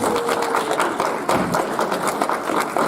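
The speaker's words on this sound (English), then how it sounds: "You guys could all give him a round of applause." Crowd applause for an equity, diversity and inclusion director at a Billy Frank Jr. Day community gathering, a dense, steady wash of many hands clapping filling the room throughout, with scattered voices mixed in.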